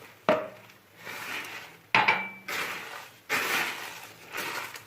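Biscuit truffle mixture with milk kneaded by hand in a bowl, giving four irregular bursts of squishing, scraping and light bowl clatter separated by short pauses, close and moderately loud.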